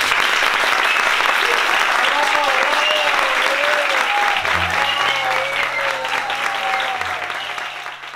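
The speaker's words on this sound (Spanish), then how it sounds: "Mónica, un fuerte aplauso para ella." Sustained audience applause in a theater fills the whole stretch, a steady dense wash of clapping that fades slightly at the end, with music and a low tone entering beneath it midway.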